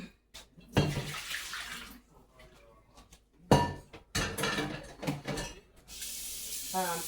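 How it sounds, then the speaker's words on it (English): A cooking pot rinsed under a running kitchen tap, with bursts of splashing water separated by pauses, clinks and knocks of the metal pot, and swirling water near the end, all close up. "So I'm going to actually use this pot. Go ahead and rinse it out."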